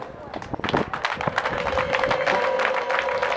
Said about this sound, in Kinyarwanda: Murakoze cyane mutanze amashyi atarayindyarya.